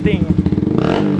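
Yamaha R15 motorcycle with an unsilenced exhaust, idling and revving loudly up close in a steady throbbing pulse, with someone talking over it.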